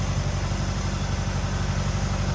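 A car engine idling close by, a steady low rhythmic throb that holds even and unbroken throughout.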